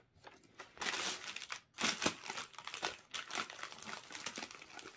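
Sheets of paper crinkle and rustle in the hands in continuous crackling bursts, close and fairly loud, with a brief pause in the middle and no talking.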